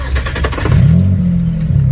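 A tuned race car engine catches and settles into a loud, steady rumbling idle close by after a short burst of cranking.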